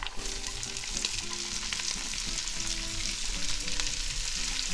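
A whole onion sizzles in a pot of rendered ham hock fat, giving a steady, close crackle and hiss of frying that runs on without a break, with no voices.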